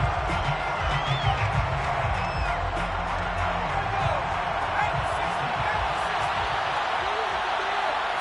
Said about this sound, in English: Plenty of shouts from this crowd as they watch the replay.